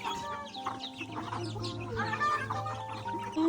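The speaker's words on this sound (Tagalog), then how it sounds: "Pinapakain ni mama yung mga manok niya" A flock of chickens clucks steadily at feeding time outdoors on a farm, with overlapping soft clucks and higher calls at moderate distance.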